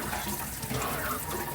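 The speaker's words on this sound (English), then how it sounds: "And I'm using pretty hot water as much as I can take here." Hot water runs steadily from a kitchen tap into a sink, a close, even rushing splash that continues without pause and without talk.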